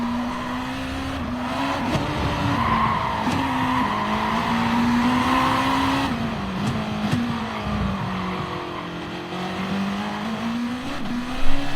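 A Honda NSX GR.2 race car laps Autopolis in Gran Turismo Sport, its engine droning steadily and shifting pitch through corners, with brief tire squeal, heard close from the bonnet view and with no talking.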